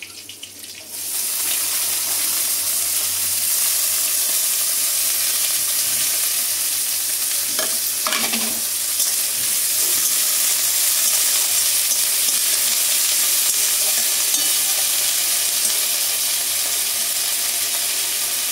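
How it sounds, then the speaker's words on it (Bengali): Washed, drained pointed gourd peels dropping into hot oil with cumin seeds, setting off a sudden loud hiss that settles into a steady, dense frying sizzle, with a couple of brief utensil clinks near the middle. "পটলের খোসাগুলো ভালো করে ধুয়ে জল ঝরিয়ে রেখেছি। এরপর আমি এগুলো ভাজবো।"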